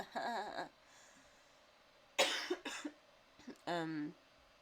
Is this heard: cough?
yes